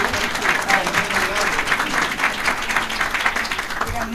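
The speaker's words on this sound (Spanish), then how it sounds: "Un aplauso para los dos." Audience at a presidential dialogue forum applauding two foundation directors; a steady, moderately loud wave of clapping with some crowd murmur and faint voices underneath.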